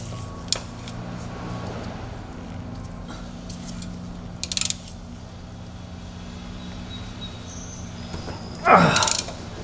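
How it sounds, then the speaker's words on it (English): Half-inch drive ratchet working loose a tight manual transmission drain plug, with a few short bursts of clicking against a low background hum and a louder scrape near the end. "To remove that plug I will use half drive ratchet."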